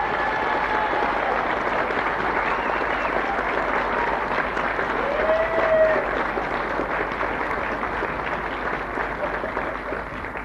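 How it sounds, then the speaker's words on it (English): An audience at a live weekend country show gives a warm, sustained round of applause, a steady wash of clapping that stays even throughout with some crowd noise mixed in. "So what about the warmest round of applause possible for them?"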